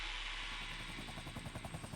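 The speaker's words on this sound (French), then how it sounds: "un hélicoptère traverse les gorges de la Luzège" Helicopter carrying a heavy steel framework load across the Luzège gorge in winter, a faint, steady rotor drone with rhythmic blade chop growing more distinct.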